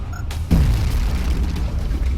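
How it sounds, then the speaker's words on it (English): An alien grenade in XCOM Enemy Within goes off in a single deep, booming blast, loud and close, with a low rumble trailing off after it. "Have some alien grenade on me."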